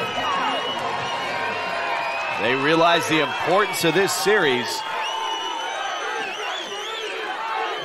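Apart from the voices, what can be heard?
American football stadium crowd cheering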